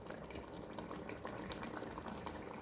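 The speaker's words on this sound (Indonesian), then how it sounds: "Biarkan mendidih sampai ayamnya empuk." A pot of chicken curry with spinach bubbles and simmers steadily, with soft popping and gurgling close by and no voices.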